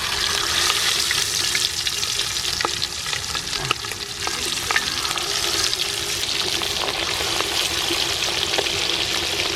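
Mackerel frying in a pan for a Kerala fish molee, a steady loud sizzle with occasional pops and stirring clinks throughout, no voices.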